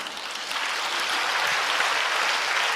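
A congregation applauding during a church prayer gathering, a dense, even wash of clapping that swells slightly after the first half second and holds steady, with no voices over it.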